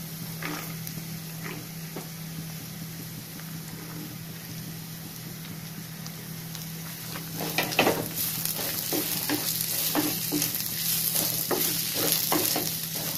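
Onions sauté in a clay pot for a village-style fish curry, giving a steady close sizzle with scattered stirring scrapes and a low hum underneath, growing busier and louder partway through.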